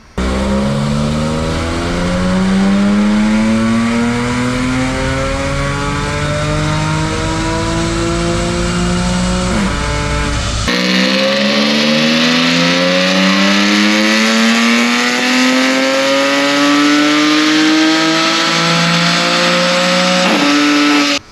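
An Audi B8 S4 fitted with dual pulley and throttle body upgrades, running a 91 octane pump-gas tune, revs hard on a dyno, rising in pitch through a long pull, dropping briefly, then climbing again, loud and close with no talk.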